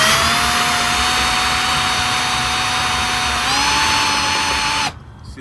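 A power drill fitted with cheap Harbor Freight bits bores into the trim on a Mercury Cougar's vinyl top, giving a loud, steady, high whine that holds nearly five seconds and then cuts off abruptly.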